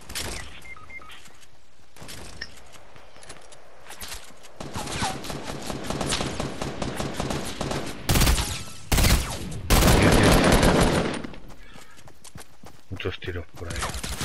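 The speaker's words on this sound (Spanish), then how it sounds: "Muchos tiros por ahí." Bursts of rapid video game gunfire, loud and close, with several sharp volleys breaking through constant game noise and talk.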